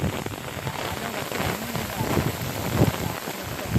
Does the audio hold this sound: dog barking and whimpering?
no